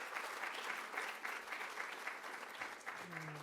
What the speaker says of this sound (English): So please an applause to the participants for this session.